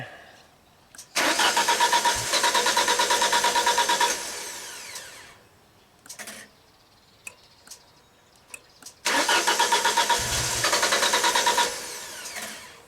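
A Genie lift's engine is cranked and catches twice, each attempt a loud, rapid, buzzing whir lasting a few seconds, separated by quiet gaps with a few short clicks and brief bursts.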